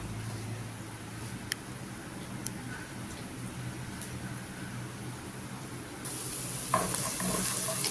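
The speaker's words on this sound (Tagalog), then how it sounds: "Kaya lang natin na maluto yung sibuyas at saka ang bawang at luya." Onion, garlic and ginger sautéing in a pan, a steady low sizzle with occasional clicks of a utensil, growing a little louder and brighter near the end.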